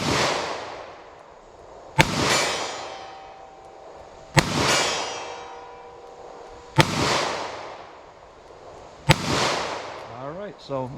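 Five sharp gunshots from a .327 Federal Magnum snub-nose revolver firing hand-loaded 100 grain XTP rounds at 50 yards, spaced about two seconds apart, each a loud crack with a ringing decay outdoors.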